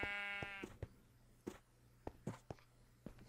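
Sheep bleating in the Minecraft video game: a short, quavering synthetic bleat at the start followed by several soft clicking footsteps or taps at irregular intervals, fairly quiet and without talk.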